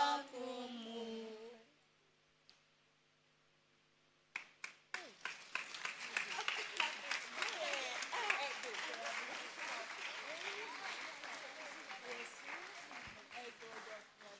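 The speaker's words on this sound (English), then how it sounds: "A round of applause once again for our very own children's ministry." Applause for a children's ministry performance at a school education week event, breaking out after a brief sung phrase and a quiet pause, then a sustained crowd clapping that stays fairly faint and distant throughout.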